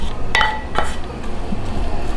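Cooking pans are swapped and handled on a stovetop while making potato lyonnaise, giving two or three sharp metallic clanks and clinks over a low background hum.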